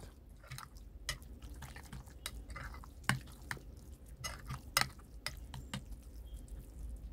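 Baba ghanoush salad ingredients are stirred together in a bowl, making soft, wet squishing and light clicking sounds at an irregular pace, close and quiet.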